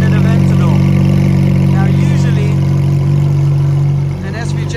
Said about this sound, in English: Proper, proper Aventador sound.